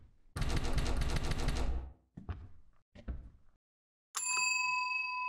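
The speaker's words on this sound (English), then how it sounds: "Bell has been rung." In the indie horror video game Suite 776, a bell is struck and rings out as a single sustained, clear ding. Before it come a burst of rattling clatter and a few knocks, separated by brief silences.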